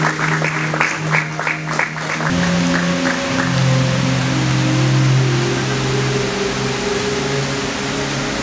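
An audience breaks into a steady wash of applause for candidates at a school ceremony, starting after a brief spoken introduction and continuing over a low tonal hum.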